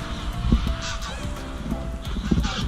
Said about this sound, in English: See these geese?